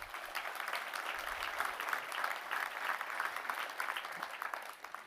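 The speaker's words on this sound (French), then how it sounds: "On peut l'applaudir." Crowd clapping during a mayor's New Year speech, a dense, even ripple of applause from a hall audience, moderately distant and steady for several seconds.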